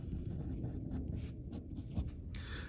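Pen strokes by hand as mathematical constraints are written out, scratchy strokes close by, broken by short pauses and ending in a brighter sweep.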